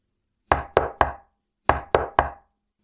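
Knocking on a door as an audio drama sound effect, two crisp sets of three loud, evenly spaced knocks separated by a short pause, close and dry against silence.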